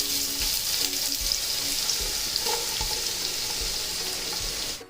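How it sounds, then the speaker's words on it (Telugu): Chopped onions fry in oil for prawn biryani, giving a loud steady sizzle up close with faint rhythmic low knocks beneath, heard alone without speech until it cuts off at the end. "ఆయిల్ వేసి బాగా ఫ్రై చేసుకోండి."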